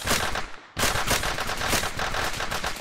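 Dense automatic gunfire in Arma 3 during a Navy SEAL co-op mission, a loud sustained burst that cuts out briefly near the start and then resumes, continuous and close.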